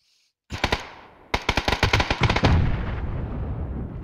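Video game firefight with rapid loud gunshots and sniper fire, a single crack followed by bursts of rapid automatic shots that ring out and decay into a lingering rumble.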